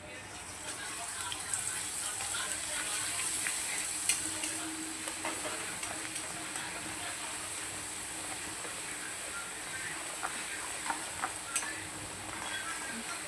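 Ground masala for moong dal kachori frying in hot oil gives a steady, moderately close sizzle with occasional crackles and stirring clicks, and a voice speaks faintly over it.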